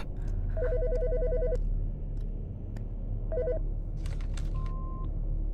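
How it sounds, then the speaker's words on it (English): A telephone rings in the video game Autopsy Simulator, with a loud electronic trilling ring followed by a shorter second ring and a brief tone, over a low steady hum. "The fucking phone."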